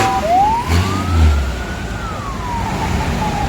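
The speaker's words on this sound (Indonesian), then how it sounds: "Mobil kebakaran." A fire truck siren sounds nearby: one long wail climbs, holds, then slowly falls, over idling heavy-vehicle rumble. Nobody speaks.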